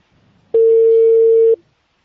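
A steady telephone call tone on a line to a hospital's liver transplant office in China, one loud continuous beep lasting about a second, heard alone after faint background noise.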